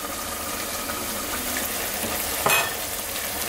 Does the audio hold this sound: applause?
no